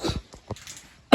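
Coughs from someone sick with a cold at home, a short burst of two or three rough coughs up close, then quieter shuffling and a sharp loud cough at the end.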